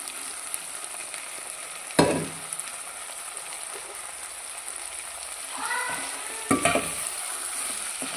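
Cooked cluster beans tipped into softened tomato in a pan and stirred, giving a soft sizzle with scraping and clattering spoon strokes, a sharper knock near the start and a few more toward the end, with no talking.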